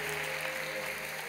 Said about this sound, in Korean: 여러분께 박수로 환영하시죠